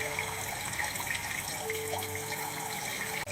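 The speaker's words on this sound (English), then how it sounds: "I wash my face." Water runs from a bathroom tap during face washing, a steady close splashing flow with a small drip-like tap near the end.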